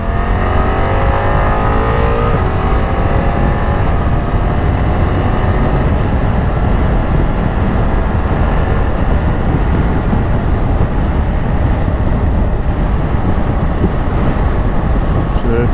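A BMW F900XR motorcycle engine drones loudly and steadily, with rising and falling harmonic tones as it accelerates through gears on the road, under heavy wind noise throughout.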